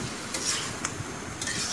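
Chicken and potato curry with tomatoes being stirred in a pot, a soft continuous sizzle broken by a few brief scrapes of the spoon against the pan.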